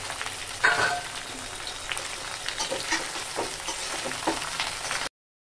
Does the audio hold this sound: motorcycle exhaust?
no